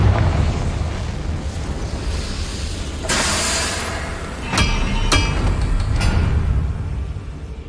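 Confringo fire spell explosions in Hogwarts Legacy: over a loud rumbling bed, a bright burst erupts midway, followed by a few sharper cracking blasts in quick succession, no talking.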